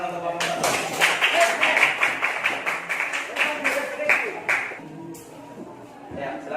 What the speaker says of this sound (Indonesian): kita berikan tepuk tangan untuk kelompok satu